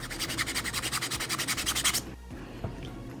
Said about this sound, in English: I love the way that sanding sounds.